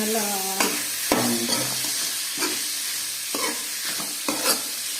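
Chicken curry ingredients being sautéed in hot oil in a pan, a continuous loud sizzle broken by several scraping stirs of a spoon, close up and with no talking.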